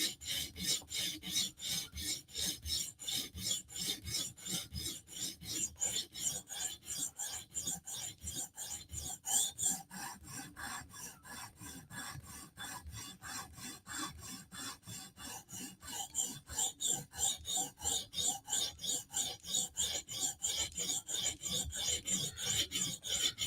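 Spyderco Slysz Bowie knife being sharpened to a mirror finish, rapid, evenly rhythmic rasping strokes, close and steady for the whole stretch with a brief softer patch midway.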